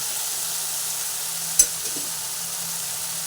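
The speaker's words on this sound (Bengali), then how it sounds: "আবার একটু ভালোভাবে নাড়াচাড়া করে করে মশলাটা কষিয়ে নিচ্ছি" Spice paste with green chillies sizzling in a pan while being stirred, a steady soft hiss of frying with one sharp clink of the spoon against the pan midway.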